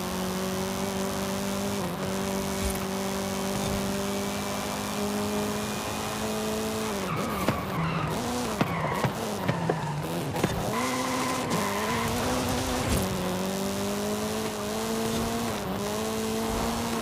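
A 2001 Acura Integra Type R races in Forza Horizon 5, its engine droning at high revs with gear changes, then squealing tyres and skids through corners before it accelerates again, loud and continuous with no talk.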